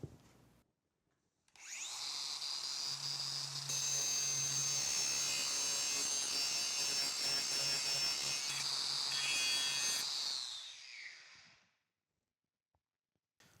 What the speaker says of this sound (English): what we're going to do is we're just going to come in here with a grinder